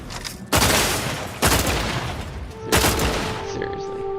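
Gunfire in The Outer Worlds 2: three loud bursts, each a sharp crack followed by a sustained rattling spray, spaced about a second apart, with a tonal hum trailing the last one.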